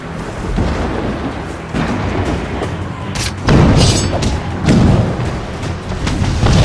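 Mortar shells exploding around a manor in the video game Assassin's Creed Rogue: a series of loud, heavy booms, some close together, over a constant roaring rumble.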